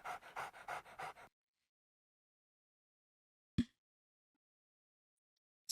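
A dog in the Nancy Drew: Ghost Dogs of Moon Lake game pants in quick, rhythmic breaths for about a second, followed by silence and a single short thud.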